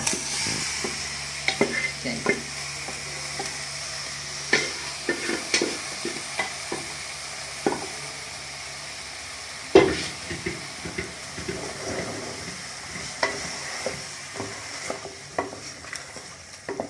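Turnip and peas being stir-fried together in a pan for shalgam matar sabzi, with a steady sizzle beneath repeated close scraping and stirring strokes, plus a sharper clatter near the middle.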